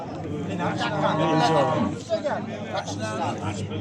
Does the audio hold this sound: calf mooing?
yes